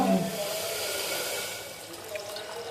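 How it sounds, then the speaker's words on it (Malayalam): Water is poured into a pot for payasam in a home kitchen during Onam cooking, a steady close rushing splash with no talk over it. "ഇവിടെ അമ്മ വെള്ളം ഒഴിച്ചു പായസത്തിന്."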